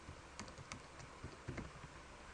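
Very faint, close keystrokes on a computer keyboard while entering text in Excel 2003 form a few irregular clusters of soft clicks against quiet background hiss.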